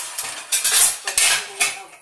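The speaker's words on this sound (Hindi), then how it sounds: "ओके, ये मैंने कुकर बंद कर दिया है" Close metallic clanks and scrapes as a pressure cooker lid is fitted and shut over dal and rice, several quick knocks of metal on metal.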